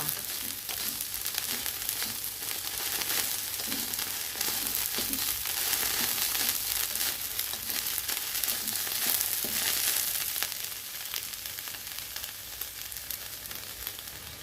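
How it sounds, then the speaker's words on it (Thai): Food dry-fried and stirred in a pan until its water cooks off, giving a continuous close sizzle with soft, regular scraping strokes underneath. "ก็คั่วคั่วไปแบบนี้นะคะ จนน้ำแห้งนะคะ"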